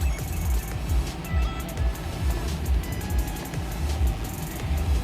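Blend door actuator motors in a 2012-2014 Chevrolet Camaro heater relearning their positions with the ignition on, a rhythmic low whirring pulse repeating about every half second, with faint clicks and a steady hum behind it.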